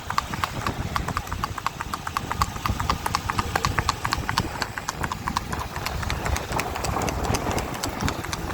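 Steady, rhythmic clip-clop of a Marwari horse's hooves on a hard surface in Anjar, Kutch, continuous throughout, with a low engine hum underneath from motorbikes riding alongside.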